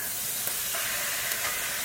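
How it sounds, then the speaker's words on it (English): Steady, loud sizzling and crackling of meat frying in hot fat in a pot for Filipino sinigang, continuous throughout with faint hiss and no talking. "The meat's going in, Mom. Meat's going in? Open your ears, you're gonna hear the sizzle."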